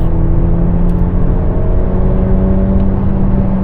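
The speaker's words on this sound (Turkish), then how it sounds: "benzinli motorun devir karakteri ve sesiyle yürüyoruz" A Mercedes C200 petrol engine drones steadily while driving, revving in a smooth, continuous hum heard from inside the car, close and unbroken with no speech.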